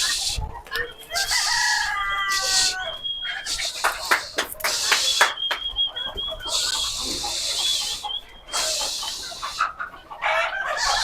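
Chickens cluck busily close by while a rooster crows repeatedly over the flock, with scattered squawks and shuffling throughout.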